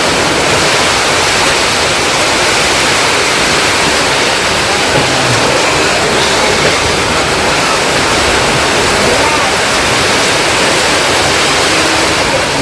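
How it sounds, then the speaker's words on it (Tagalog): Heavy rain pours down in a steady, dense hiss that holds at an even loudness throughout, with no voices over it. "Lakas ng ano guys, yung tulo ng ulan"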